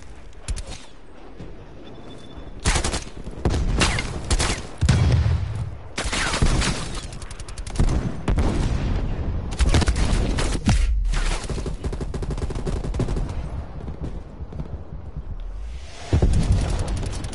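Dense, repeated gunfire from the Call of Duty Cold War beta: bursts of automatic shots, with brief pauses between them, sit close and loud across the whole stretch, and deep booms are mixed in.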